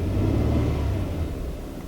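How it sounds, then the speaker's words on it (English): A car engine revs as gas is given, a deep rumble that swells and then eases off slightly, steady and near, with no voices. "And let's give it some gas."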